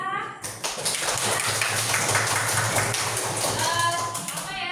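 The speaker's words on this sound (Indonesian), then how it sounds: "coba kita berikan tepuk tangan kepada teman kita" Schoolchildren in a classroom clapping for a classmate, a burst of quick, bright hand claps from many small hands that swells and then tapers, with a few voices mixed in.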